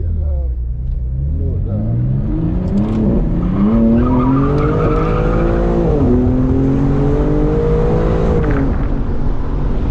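A 2021 BMW M4 Competition drifts with its engine revving hard and tires squealing in long rising and falling tones, loud and continuous throughout, heard from inside the car.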